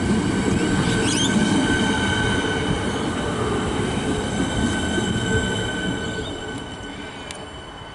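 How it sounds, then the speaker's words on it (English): A train at a station rumbles steadily nearby, with metallic wheel squeals and faint high whines over the rolling noise. The sound slowly fades toward the end, and no one speaks. "Train's due to depart about now."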